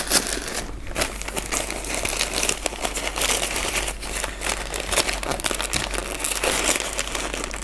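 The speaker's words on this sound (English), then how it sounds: "this tape doesn't want to break or tear" Packing tape on an orchid shipping box crinkles and rips as it is pulled and torn, a steady close-up run of crackling and scratchy tearing noise lasting several seconds with no talking.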